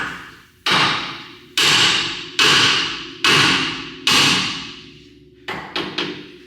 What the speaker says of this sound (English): we can hit our knuckle and get this to separate